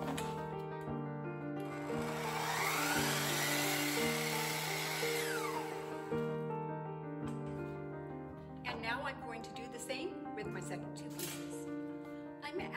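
A power saw cuts wood trim pieces for a wall hook shelf, a steady loud whine with a strong hum that holds for several seconds and then changes pitch as the cut finishes, close to the microphone.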